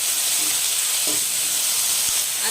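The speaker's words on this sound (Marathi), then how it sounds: "हे तडतडलं की त्याच्यामध्ये भाजी टाकून घ्यायची।" Vegetables hit hot tempering in a pan, giving a steady loud sizzle and steamy hiss throughout, with a faint clink or stir near the end and no talking.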